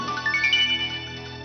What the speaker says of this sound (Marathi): सुहासचा फोन आहे.